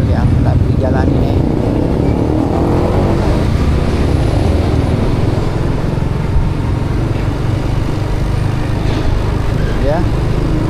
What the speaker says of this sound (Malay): motosikal yang lalui jalan ini